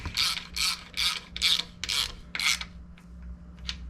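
Bolts being snugged down on a Ford Y-block engine's rear main seal with a ratchet, giving six quick rhythmic clicking bursts close by, then a few fainter ticks, no talk.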